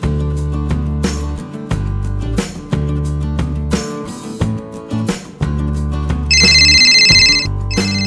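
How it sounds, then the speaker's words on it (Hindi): A telephone rings during a scene in a Hindi TV drama, its bright, repeated ringtone rising near the end over loud, dramatic background music. "और जब फोन की घंटी बजी"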